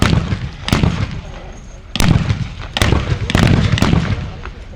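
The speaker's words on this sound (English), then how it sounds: "A German artillery battery, a 77mm battery, has come in" WW1 reenactment battle with gunfire and a German 77mm artillery battery firing: several loud, sharp blasts spaced about a second apart over a rumbling, crackling background of distant shots.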